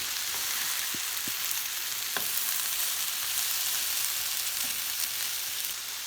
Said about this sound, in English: See how it's kind of like getting grilled a little bit from the heat?